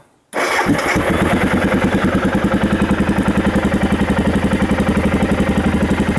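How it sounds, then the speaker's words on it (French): After brief silence an Aprilia 650 Pegaso motorcycle engine cranks and fires up, then settles into a loud, steady, rhythmic idle chugging close by. "Donc, on va démarrer la moto."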